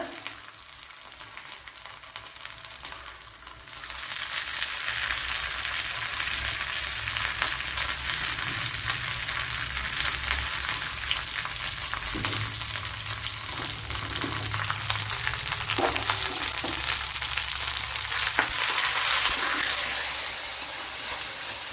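Curry leaves and dried red chillies fry in hot oil, a quiet simmer that bursts into a steady hissing sizzle after a few seconds and stays continuous, with no voices.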